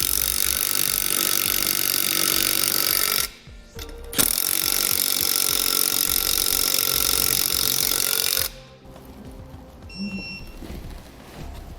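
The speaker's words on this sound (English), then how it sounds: "you'll want a 9/16 inch socket to run those down" A power tool with a 9/16 inch socket runs down 3/16 inch locking flange nuts while Firestone Ride-Rite air helper springs are installed on a 2017 truck. Two loud, steady whirring bursts are separated by a brief pause, then fade to quieter background.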